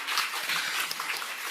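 Applause fills a church Sunday service as the congregation welcomes a member's husband and baby: a steady, dense wash of clapping that holds evenly throughout without pause.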